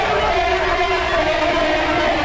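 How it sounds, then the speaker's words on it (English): A corrupt lead synthesizer preset run through the Argent compressor sounds as a thick, sustained, even drone with bright overtones, fairly loud and unbroken for just over two seconds. "with argent compressor, it becomes something more than just a preset"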